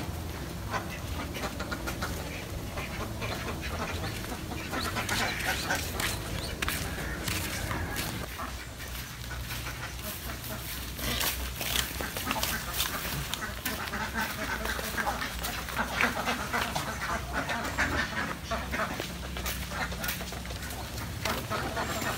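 Ducks quack on a farm, a busy chorus of calls running steadily through the scene amid outdoor noise, with occasional voices in the background.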